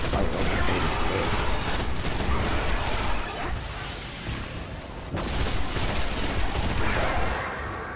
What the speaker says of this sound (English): I'm liking this pulse rifle.